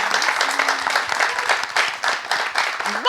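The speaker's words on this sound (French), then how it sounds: "On applaudit les téléspectateurs aujourd'hui" Studio audience applause for the viewers of a French-language TV broadcast, a steady patter of clapping that runs the whole time with a faint voice and tones underneath.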